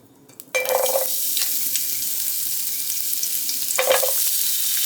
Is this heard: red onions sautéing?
yes